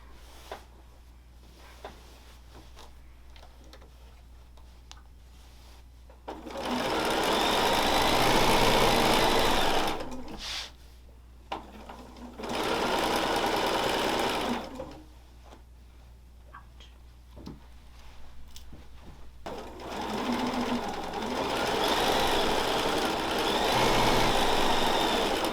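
A sewing machine stitching binding onto a quilt runs in three loud, steady bursts of rapid whirring, each lasting a few seconds, with quiet pauses between them.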